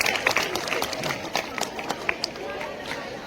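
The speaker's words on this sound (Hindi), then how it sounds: "एक बार फिर से जोरदार तालियां करेंगे" Dense applause from an audience at a school Independence Day celebration, a steady wash of many hands clapping with sharper individual claps standing out, sustained throughout at moderate loudness.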